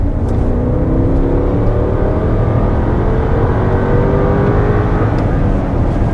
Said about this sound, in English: You get a nice V8 burble from the exhaust